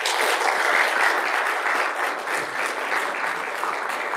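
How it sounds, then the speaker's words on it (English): Enthusiastic audience applause at a literature festival, loud and sustained with dense overlapping claps filling the whole four seconds, slightly easing toward the end. "With a huge round of applause."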